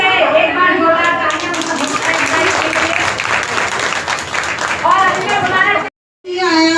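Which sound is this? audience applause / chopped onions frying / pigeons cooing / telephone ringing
audience applause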